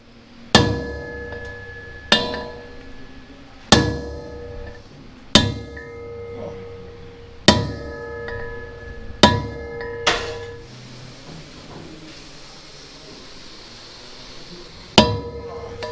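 Heavy hammer blows driving bolts out of a heated tractor final drive housing in a workshop: eight sharp metallic strikes with ringing decay, spaced roughly every one to two seconds, then a long pause before a final blow.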